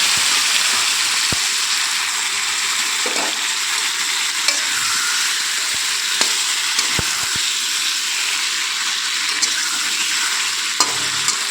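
Eggplant sizzles steadily in hot oil in a wok, a continuous close frying hiss with occasional light clicks of stirring, no talk.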